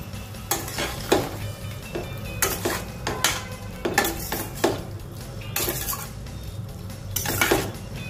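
Broccoli curry with pav bhaji masala being stirred in a pan, with repeated scraping and clinking strokes of a utensil against the metal over a low, steady cooking hiss, close and clear.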